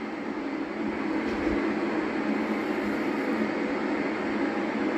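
The Amtrak Coast Starlight passenger train, Train 11, passes the Fairway Drive railroad crossing in San Leandro, California, as a steady, loud rumble of wheels and rail noise that holds without a break.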